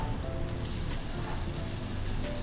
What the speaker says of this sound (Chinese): 我们这个时候呢就可以加入牛油，这里的牛油呢是40克